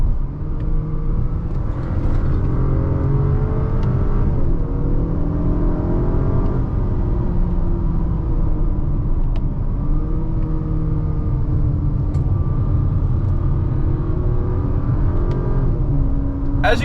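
An Acura RDX A-Spec engine climbs toward redline in sport mode, a loud continuous drone with rising and falling pitch sweeps as gears change, close and dominant throughout.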